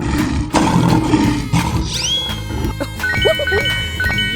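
A lion in a 3D animal video game lets out a rough, loud roar over lively game music, followed by jingling, tinkling effects and bright tones.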